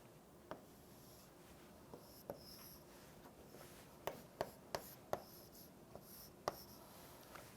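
Chalk or marker taps and scrapes across a lecture board while a diagram of a metal alloy unit cell is drawn, with sparse faint strokes and a quicker cluster near the end in a quiet room.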